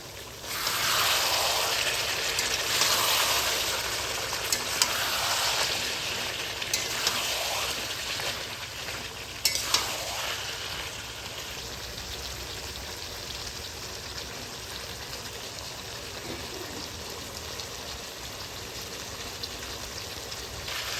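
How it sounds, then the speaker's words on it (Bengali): Mutton being browned slowly on low heat in a pan without added water, a soft continuous sizzle and bubbling, quiet and close with no talking. "এবার আস্তে আস্তে আমরা হালকা আঁচে কষে নেব।"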